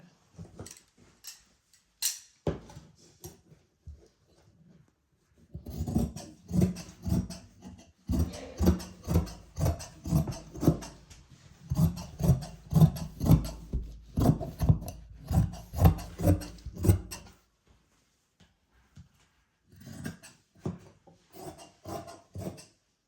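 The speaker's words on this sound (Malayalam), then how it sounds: "ഇതേ രീതിക്ക് തന്നെ കട്ട് ചെയ്യുക ഇങ്ങനെ" Scissors snip through churidar fabric in a tailoring demonstration, a run of rapid rasping cuts with short pauses between bursts, close and fairly loud, no talking.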